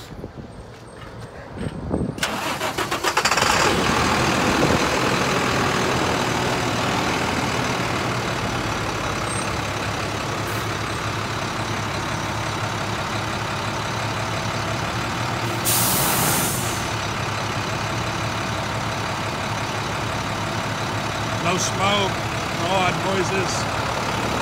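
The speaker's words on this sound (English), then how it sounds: "we're going to start it up so you can hear it run." A 2006 International 4300 bucket truck engine cranks and catches, then settles into a loud, steady diesel idle with a brief hiss of air partway through.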